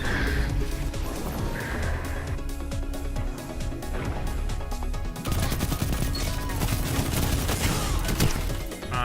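Dense, continuous gunfire and crashing effects from a Destiny 2 firefight, as weapons shoot through a grenade; loud, busy bursts fill the whole stretch with no talking over them.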